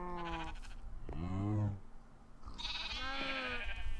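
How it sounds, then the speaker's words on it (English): Sheep in the video game MagiCraft bleat repeatedly, a series of wavering, nasal calls close by, with a short gap between the first cries and the later ones. "Somebody killed a sheep."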